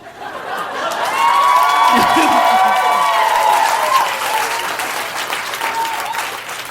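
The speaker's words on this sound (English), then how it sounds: "I also love applause." Sustained applause from a crowd, steady and fairly loud, with a few scattered voices and chuckles mixed in.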